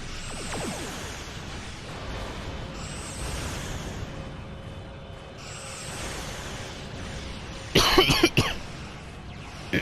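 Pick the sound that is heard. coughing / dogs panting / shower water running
coughing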